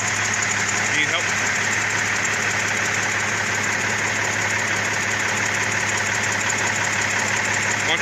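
Two Cummins big cam truck engines idle together after a cold start, giving a loud, steady, close diesel clatter with an even low hum. People talk over the idle.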